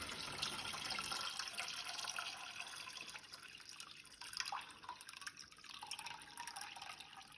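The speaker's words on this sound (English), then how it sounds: "use the filtered water to refill the water in the tank." Filtered water poured into the tank of a cat water fountain, a steady close splashing trickle that continues throughout, quiet and alone.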